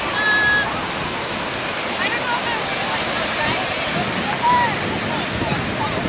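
Wind rushes across the microphone at Venice Beach, California in a steady, loud, broadband roar that runs throughout, with faint surf-like washing underneath and brief higher tones.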